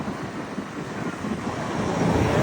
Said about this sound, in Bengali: এত সুন্দর ঠান্ডা বাতাস